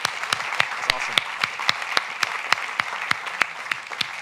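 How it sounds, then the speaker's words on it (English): A conference crowd at a design talk applauds its organizers and volunteers, with distinct claps standing out at a regular, even pace over a softer background spread of clapping. "I'd really like to just get some applause for all the fantastic organizers, the volunteers today who've put this all together"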